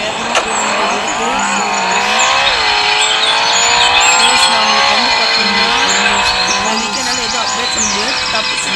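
A car races at high speed in the Emergency Hamburg video game, a loud, continuous engine roar with shifting revs and squealing tires throughout, while a voice talks over it.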